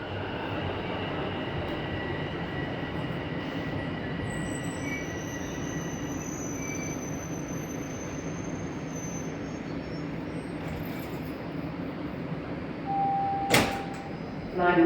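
A Toronto Line 1 subway train pulls into Queen's Park Station, its steady rumbling roar of rolling wheels filling the platform throughout, with a faint high squeal, a brief electronic tone and a sharp clack near the end.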